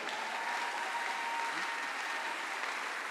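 A church congregation claps steadily throughout, a dense, even wash of applause from many hands at a moderate distance, with no pauses and no voices standing out.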